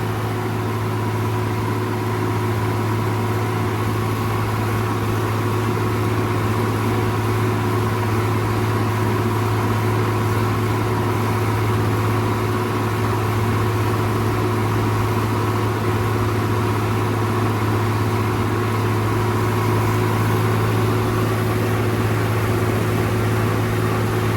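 Steady low engine idle from a tractor nicknamed Jhota, a constant deep hum with a faint droning whine above it, running close and unbroken with no voices.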